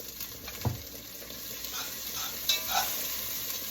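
Onions softening in a skillet give a low, steady sizzle throughout, with a few brief scrapes of stirring and a soft knock near the start.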